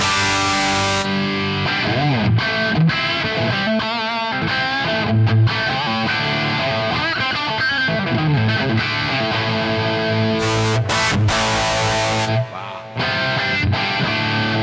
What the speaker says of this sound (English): Okay, this is the sound without the amp,